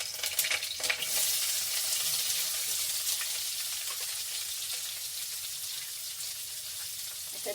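Onions frying in a pan along with cinnamon and cloves for an egg biryani, a steady close sizzle with a brief burst of stirring near the start, then an even hiss with no talk.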